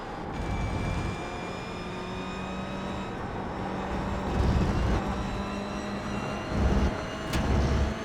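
A racing car's engine drones steadily under trail braking, with shifting tonal whine and a few low swells toward the end, heard continuously from inside the car with no talk.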